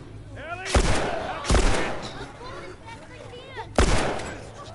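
Gunfire in The Last of Us, three loud separate gunshots spaced about a second or more apart, each with a sharp crack and a reverberant tail, with voices speaking between them.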